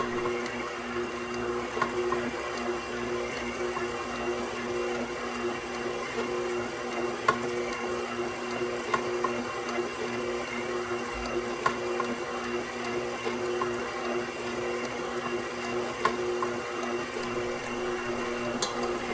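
A KitchenAid Professional 6000 HD stand mixer with a DC motor kneads bread dough, its steady motor drone running close and continuous with small rhythmic knocks.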